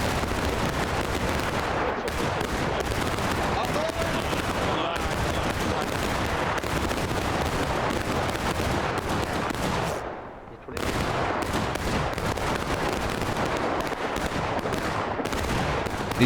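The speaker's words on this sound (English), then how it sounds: "These boys are shooting directly into the backs of some loyalists" Dense, continuous musket gunfire in War of Rights, a 1776 public match at Pry House, with overlapping volleys and crackling shots filling the scene loudly, broken by a brief lull before the firing resumes just as heavily.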